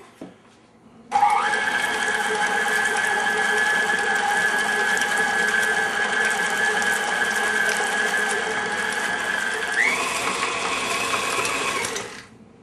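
An electric mixer whirs continuously as it blends a cream cheese ball mixture with olives and other ingredients, starting abruptly, holding a steady high motor whine, shifting pitch slightly near the end, then stopping.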